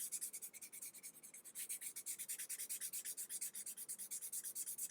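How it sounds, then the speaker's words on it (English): Rough sandpaper rasps steadily along the edge of a leather ID tag, rapid rhythmic back-and-forth strokes, close and quiet with no talking. "use the rough sandpaper to remove it. So you sand down the edge here"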